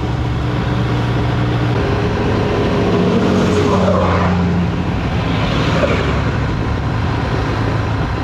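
Trucks labouring along a road in Thailand, loud continuous engine drone and road roar, with a vehicle passing close midway, no talking heard.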